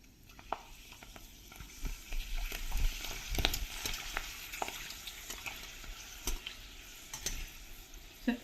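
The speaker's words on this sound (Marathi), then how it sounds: "हे जे फिंगर्स आहेत ना हे हे आपण आता तळून घेऊया" Nadde kebab fingers frying in hot oil at a Nagpur street food stall, giving a soft steady sizzle with scattered pops and crackles, no voices.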